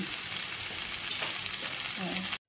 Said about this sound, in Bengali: সেই মিহি পেস্টটা আমি এর মধ্যে দিয়ে দেব, দিয়ে ভালো করে আমি কষিয়ে নেব